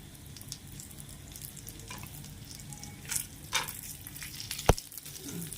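Cashew nuts frying in ghee in a pan for carrot jaggery halwa, a soft steady sizzle with a few spoon scrapes and one sharp clink near the end, no talk.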